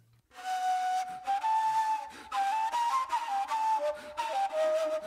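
A breathy ney flute plays a sustained, wavering melody with audible air noise, with brief pauses between phrases, close and steady.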